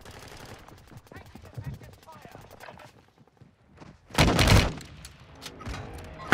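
Automatic gunfire in the video game Call of Duty: Modern Warfare II, rapid bursts early on and a loud heavy volley in the middle, with a player talking throughout.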